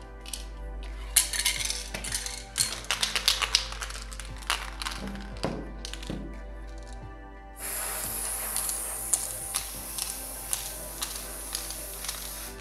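Silver spray paint hisses from an aerosol can while a vase is coated at home. Light taps and clinks come first, then a loud, continuous spray hiss holds steady for the last five seconds.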